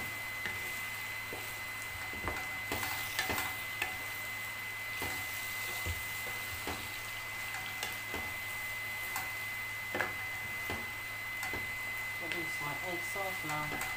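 Egg sauce with red and green bell peppers, onions and habanero being stirred in a frying pan: a steady sizzle with regular light taps and scrapes of the utensil against the pan, and faint speech in the background.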